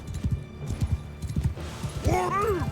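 Horse hooves in Mount & Blade II Bannerlord: a quick run of clip-clop beats in close rhythm, ending in a whinny-like call, with no voices over it.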